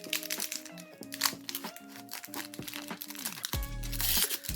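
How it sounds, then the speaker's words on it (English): Pokémon trading card packs torn open by hand, the foil wrapper crinkling and crackling up close in busy bursts, with tonal music playing underneath throughout. "I think I'm getting better at opening the cards, actually."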